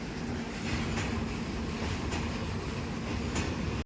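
A train rolls along rails with a steady loud rumble and faint periodic clacks, heard up close for a few seconds before cutting off, with goods trains running nearby.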